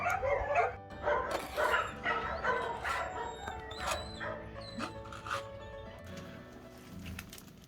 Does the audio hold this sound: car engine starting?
no